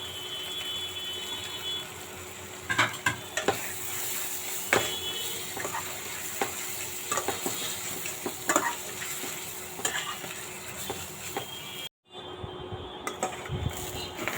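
Goat brain frying in oil in a pan, a steady close sizzle with repeated stirring scrapes and utensil taps against the pan, briefly cut near the end.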